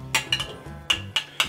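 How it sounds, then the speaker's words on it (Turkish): A utensil stirs tempura sauce mixed with mustard in a bowl, knocking against the sides in about six quick, close clinks in an uneven rhythm, with no voices. "hardalla beraber güzelce karıştırıyorum"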